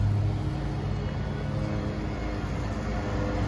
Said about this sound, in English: this engine does have a nice grumble to it too, especially when you're asking for a little bit more of acceleration